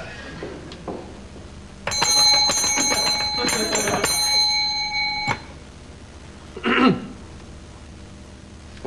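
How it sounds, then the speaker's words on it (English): A bell rings in a bright, ringing burst of repeated strikes lasting a few seconds, then decays, followed by a short throat clearing or vocal noise nearby. "Aren't you going to ask me why I rang that bell?"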